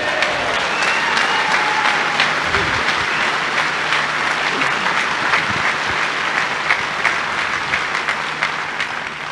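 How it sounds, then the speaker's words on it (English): Sustained applause from a large crowd at a Brexit Party political rally in Fylde, loud and even throughout, with thick overlapping claps and occasional cheers and no speech. "Thank you for your applause."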